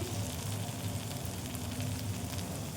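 Shrimp with taro stolons (kochur loti) frying in a pan, a steady close sizzle that runs continuously without a break.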